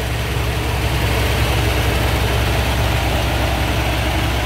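A 1968 Cadillac Fleetwood Brougham with its 472 cubic inch 7.7 liter V8 idling under an open hood, a steady, loud, low rumble with an even hum and no speech.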